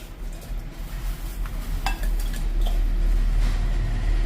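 Jaggery is stirred into water in a metal pot for malpua batter, with a spoon scraping and clinking against the sides in loose, irregular strokes.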